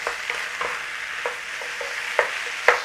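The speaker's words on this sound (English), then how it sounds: "Listen to that sizzle." Beef and broccoli stir-fry sizzles steadily in a pan, with a few clinks and scrapes of stirring now and then; close and moderately loud, no talking.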